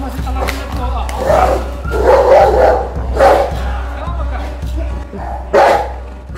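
Caucasian Ovcharka dogs bark repeatedly at close range, sharp barks recurring every second or so, mixed with people talking.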